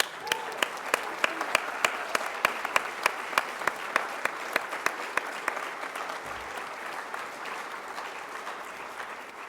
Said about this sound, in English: how about a round of applause for that beautiful planet?